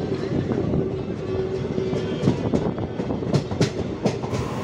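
The Jansadharan Express, an all-general-coach passenger train from Amritsar to Saharsa, rolls along the rails with a close, loud, steady rumble and a rhythmic clickety-clack of wheels over rail joints, with no talking.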